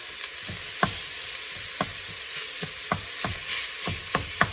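Pork pieces and meatballs frying in an Instant Pot, a steady broadband sizzle with a series of sharp scraping stir clicks spaced irregularly, close and moderately loud, no talking.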